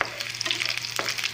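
Small onions frying in hot coconut oil, a steady crackling sizzle with brief stirring scrapes, close and fairly quiet, no voices.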